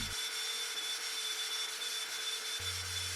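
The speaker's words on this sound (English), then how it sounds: "Then I used a 1/4 inch drill bit to drill out the 7 bolt holes." A 1/4 inch drill bit grinds steadily through bolt holes for a router table mount, with a continuous, rough, whirring buzz that runs without pause, fairly close and moderately loud.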